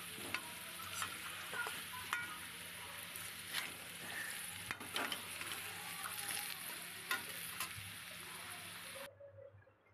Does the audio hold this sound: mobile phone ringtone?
no